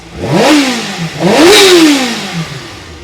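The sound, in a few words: Kawasaki ZX6R Ninja motorcycle engine idling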